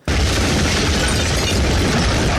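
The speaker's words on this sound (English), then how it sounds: "Russia's invasion has begun with missile strikes in Kyiv" Explosions from missile strikes in Kyiv, recorded as news footage, come as one sudden heavy boom that turns into a loud, sustained roar and rumble filling the whole clip.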